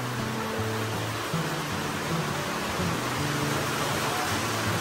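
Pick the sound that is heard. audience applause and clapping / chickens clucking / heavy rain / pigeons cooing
heavy rain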